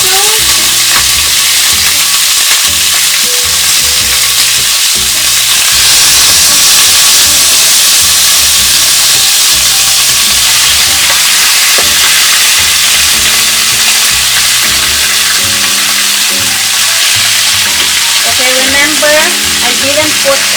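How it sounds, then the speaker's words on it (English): Pork pieces fry in a pan for Sprite thyme adobo, a loud continuous sizzle and hiss with steam, with occasional stirring and clinks of a utensil throughout. "If you can hear the"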